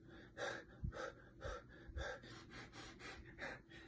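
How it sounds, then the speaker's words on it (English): Slow, deliberate breaths in and out repeat in an even rhythm, soft airy inhales and exhales close to the ear, quiet and alone. "just breathing"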